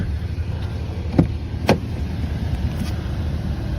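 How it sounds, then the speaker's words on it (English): A car speeds across a bridge near a campsite, a low distant road rumble with two brief sharper whooshes as it passes, fairly faint and with no talk. "Sounds like there's a car that just flew across the bridge"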